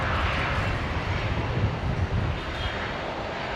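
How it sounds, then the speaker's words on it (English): A Qantas Link Dash 8 Q400 turboprop arriving at Brisbane Airport gives a steady, fairly loud engine drone. The roar holds without break and no one talks over it. "Just watching one of the Qantas Link Q400-8s."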